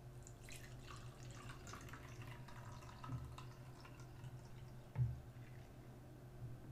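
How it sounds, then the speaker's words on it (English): Bubble solution mixed with glycerin trickles into a 3D printed bubble blower, a faint, soft pouring with light drips and splashes. The sound is quiet and steady, with one brief thump near the end and no talking. "Pour the solution into the bubble blower."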